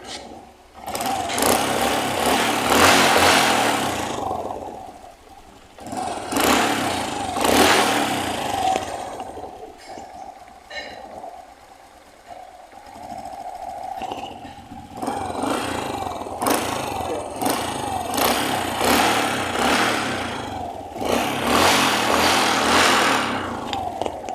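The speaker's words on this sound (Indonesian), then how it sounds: "Kita langsung saja tes. Mesinnya mulus." A Honda Supra 125 motorcycle engine runs after a chain adjustment, a steady close buzzing idle that rises and falls in several revving bursts throughout, with no talking.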